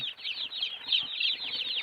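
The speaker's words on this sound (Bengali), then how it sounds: "এখানে হচ্ছে 110 পিস দেশি মুরগির বাচ্চা আর একটা বড় মুরগি এগুলার সাথে আছে" A chorus of desi chicks peeps in dense, continuous high chirps at a native poultry farm where 110 chicks are kept with one grown hen, the cheeping close and steady throughout.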